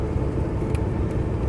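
A Land Rover 90 V8 station wagon engine rumbles steadily while driving, a low continuous drone heard close with road noise and no talk.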